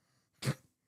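A single short sneeze, sharp and close, bursting out briefly after near silence.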